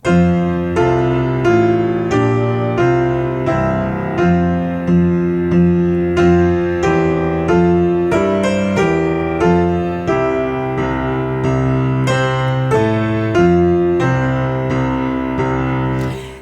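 The hymn Come Thou Almighty King played on piano with steady chords and a left-hand bass line doubled in octaves, moving in even beats, loud and close, with no voices.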